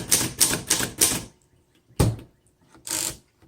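A 1928 Underwood four-bank antique typewriter clacks out four crisp, evenly spaced keystrokes, then after a pause two louder mechanical strikes, close and clear with no talking.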